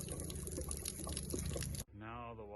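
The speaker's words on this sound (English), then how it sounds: "This is going to drain all the water out of this water heater." Water draining out of a Truma AquaGo water heater in a Ram Promaster van, a steady broadband splashing pour lasting about two seconds before it stops abruptly and a voice follows.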